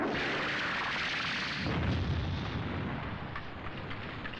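A rocket strike explosion from a jet attack run, a deep, heavy boom that swells midway and then rolls off into a long rumbling tail, heard at a distance with no voices.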